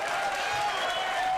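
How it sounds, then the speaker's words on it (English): An audience applauds a comedian, Louis C.K., as he is welcomed onstage, a brief wash of steady clapping heard at moderate distance. "Please, a nice round of applause for Mr. Louis C.K."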